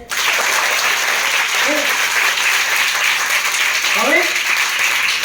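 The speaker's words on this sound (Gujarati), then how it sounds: "મજા પડી તો જોરદાર તાળી થઈ જાય" Audience at a poetry session in a school hall clapping loudly, a sustained and even roar of applause with brief vocal sounds rising over it.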